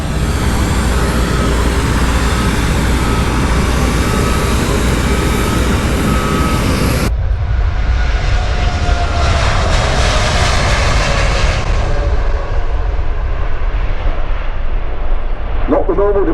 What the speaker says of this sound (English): Not the normal departure that you get out of Heathrow by the aircraft climbing steeply away.